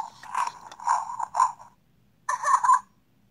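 An electronic panda toy powering on, a short series of whirring, clicking mechanical chirps in quick pulses, a pause, then one more burst, fairly quiet and close with no talking.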